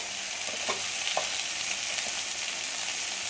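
Onions and tomatoes sizzle in a pan of hot oil while being stirred for a Tamil medicinal kuzhambu. A steady close frying hiss runs throughout, with a few soft scrapes and stirring knocks and no voices.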